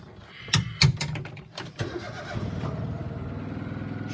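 A motorbike starts up on a hay farm: a few sharp clunks and kick attempts, then the engine catches and settles into a steady, close, rumbling idle.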